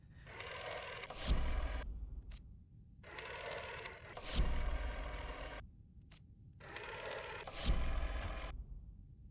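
Telephone ringing inside the horror video game Layers of Fear: three evenly spaced bursts of a mechanical, rattling ring, each about two seconds long, with short gaps between, heard fairly clearly and alone without speech.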